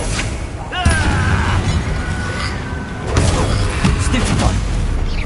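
Confringo blasting spells cast in Hogwarts Legacy, heard as sharp bursts and crackling impacts in two loud clusters, with voices talking over the combat.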